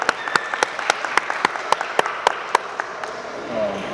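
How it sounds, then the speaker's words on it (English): An audience at a school athletics banquet claps for the parents, sharp individual claps ringing out in a loose, quickening rhythm close by, with some voices and room murmur underneath. "Let me hear you clap for your parents"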